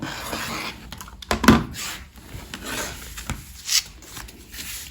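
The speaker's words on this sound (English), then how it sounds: "I'm going to line that 1/4 inch line on the ruler up against the fold and trim the fabric" Quilt fabric for a baby quilt being trimmed along a ruler, heard as soft, close scraping and rasping strokes with a few louder rubs over a quiet background.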